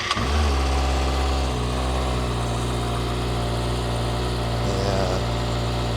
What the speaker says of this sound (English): hear that stock exhaust for the last time on the bike